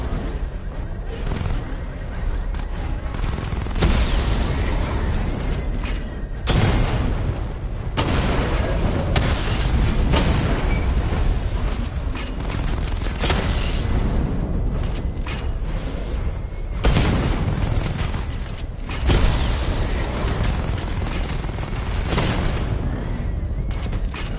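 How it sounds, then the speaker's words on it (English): The Batmobile's missile barrage in Batman: Arkham Knight lets off a continuous roar of loud booming explosions and mechanical clatter, dense and overlapping throughout, with bursts swelling every few seconds. "Charge the missile barrage to level 2 to destroy up to 4 targets at once."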